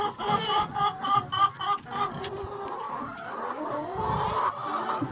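Hens cluck in a chicken coop, a close run of rhythmic, repeated clucks at first that gives way to softer, scattered murmuring and shuffling.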